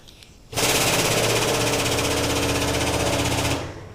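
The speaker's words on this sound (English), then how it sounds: "I can connect air to the air motor" An air motor on an air-over-hydraulic motorcycle lift table pumps up the table, a loud, rapid mechanical rattling chatter that starts abruptly, holds steady for about three seconds, then cuts off.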